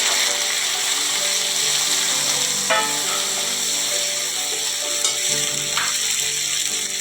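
Ginger paste and chopped tomato frying in a pan, giving a loud, steady sizzle throughout, with a few scraping stirs of a utensil against the pan.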